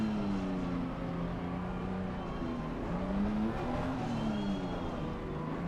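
Race cars from Assetto Corsa Competizione run on a full grid, with one car spun round, giving a steady, loud blend of engine drone and tyre noise that holds for the whole stretch.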